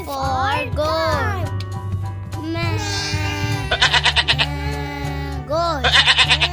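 A goat bleats several times in a children's ABC phonics song, the wavering cries overlapping a child-like sung voice and steady music, fairly close and loud.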